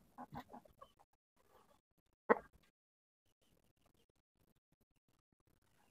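Shamo game roosters give a few short clucks, a quick burst of close calls at the start and one sharp cluck midway, with quiet gaps between and no talking.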